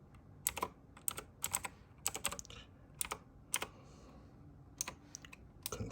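Short bursts of keystrokes land on a computer keyboard while a password is entered, crisp close clicks in quick clusters separated by brief pauses, with no speech.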